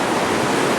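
Fast-running flood water at a camp roars as a loud, dense, unbroken rush, close up and with no other sounds over it.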